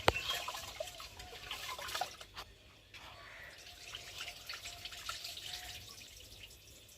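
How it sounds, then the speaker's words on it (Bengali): Rice being washed under running tap water in a home kitchen: faint, steady trickling and splashing with occasional drips and soft clinks, quiet and close, with no talking. "দেখো এই কলের জল দিয়ে ধুয়ে নিলাম।"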